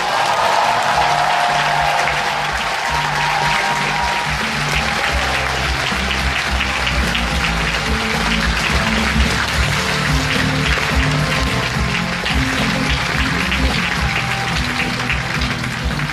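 A crowd claps and cheers at the opening of a welfare demands rally for the 2018 Busan local elections, with dense sustained applause and a low rumble over many seconds.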